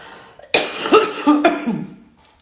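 A person coughs in a short burst of three or four rough, close coughs, trailing off into breathy throat sounds.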